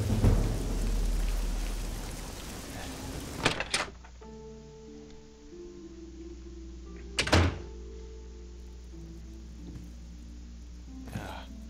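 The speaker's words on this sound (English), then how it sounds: "I think I should get out of the rain." Steady rain pours down in The Elder Scrolls IV: Oblivion, broken by three sharp, loud thunder cracks spaced a few seconds apart over the constant hiss of rainfall.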